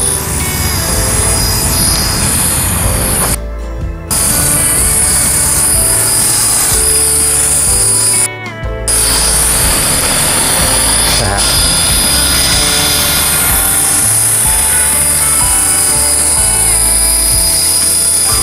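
A Tarot 450 GPS drone flying an autonomous figure eight, its rotors whirring loudly and continuously at close range with shifting pitch, briefly cut out twice, while someone talks over it.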